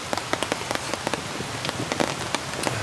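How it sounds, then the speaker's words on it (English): Rain patters steadily on a tent in a winter wild camp, with scattered sharp drops striking close to the fabric over a dense hiss of falling water. "I've just been lying in the tent listening to the rain"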